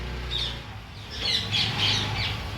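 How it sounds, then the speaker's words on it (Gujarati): Parrots squawk outdoors in a few harsh, scattered calls at moderate distance over a steady low background rumble. "મસ્ત મજાના પોપટ બોલી રહ્યા છે"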